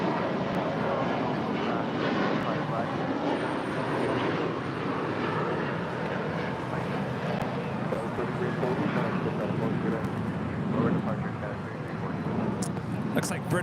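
A British Airways airliner passes at LAX airport, a broad, steady jet roar that holds throughout, with people talking over it.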